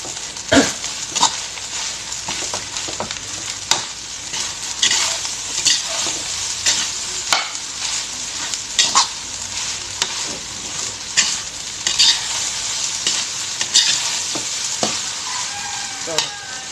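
Tomatoes and egg sizzle loudly in a pan, with frequent sharp scrapes and clinks of a utensil stirring in an irregular rhythm over a continuous frying hiss.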